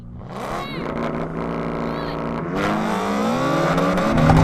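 A BMW M3 and BMW M4 launching side by side in a drag race, engines rising in pitch through gears with a shift near the midpoint, loud and close, building in intensity.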